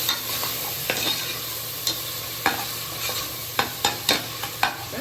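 Ginger and garlic frying in coconut oil for chicken gravy, a steady soft sizzle punctuated by sharp scrapes and taps of a spatula against the pan at uneven intervals.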